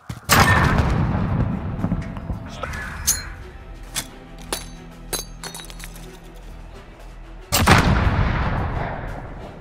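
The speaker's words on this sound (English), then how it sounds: "if you throw the nade, you can roll it perfectly into the back" A grenade rolled into position explodes in a Call of Duty match on the St. Petrograd map: a heavy blast opens, scattered clinks and sharp gunshots follow, then a second loud burst hits near the end.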